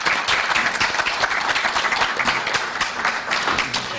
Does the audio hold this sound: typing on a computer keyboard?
no